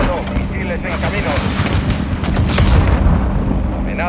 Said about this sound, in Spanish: El apoyo aéreo está en posición. Breaker, mono, misiles en camino.